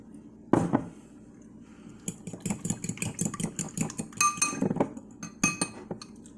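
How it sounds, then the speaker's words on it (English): A fork whisks three eggs and salsa in a dish, giving a quick rhythmic series of clinks and taps against the dish over a low engine-like hum, with one sharp knock at the start. "before I even put the fork in there to whisk that"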